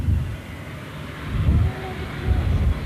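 Orao military jet aircraft at Golubovci airfield produces a low, rumbling engine drone that swells and fades in slow pulses, heard at a distance without speech.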